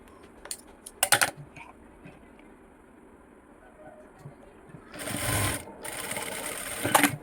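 Sewing machine stitching a dart in a blouse, a soft rattle and thumps at first, then two close bursts of rapid mechanical stitching near the end.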